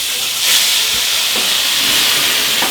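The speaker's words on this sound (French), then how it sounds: "ouzo et on flambe" Ouzo poured into a hot pan and set alight gives a loud, close hiss and whoosh of flame over sizzling, a continuous roaring rush with slight swells, no talk.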